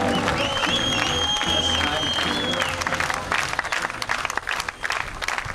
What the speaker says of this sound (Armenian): թող իրանք մի հատ ծափարեն